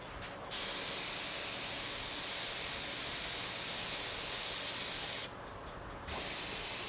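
An airbrush blasts a loud, steady hiss as it is rinsed out, broken by two short pauses between bursts.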